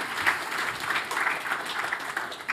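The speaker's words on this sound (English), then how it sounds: "Let's a round of applause for the speakers." Conference audience applauds the speakers at the close of a talk in a hall, a dense, even patter of many hands clapping that holds steady for a couple of seconds.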